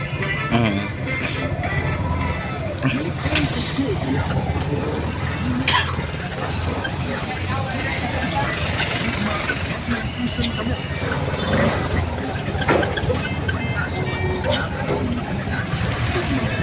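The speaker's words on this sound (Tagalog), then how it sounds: "Traffic ba naman ngayon kasi uwian." Rush-hour road traffic around a van in Tagbilaran City, heading to the terminal: a dense, steady rumble of passing cars and trucks with scattered horn-like tones and background voices throughout.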